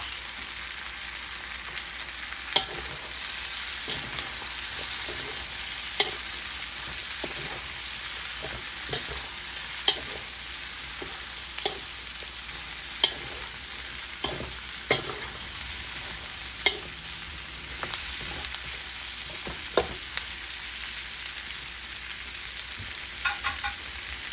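Cabbage stir-frying for pancit bihon, a steady loud sizzle punctuated every few seconds by sharp clacks of a spatula scraping and tossing in the pan, with no talking.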